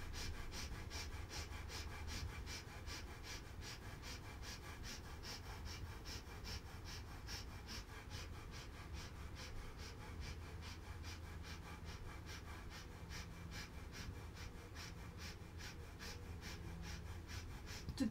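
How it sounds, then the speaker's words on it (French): Rapid rhythmic breath of fire during a Kundalini yoga posture, a steady, even stream of short forceful nasal exhalations continuing close and unbroken for the whole stretch. "Respiration du feu."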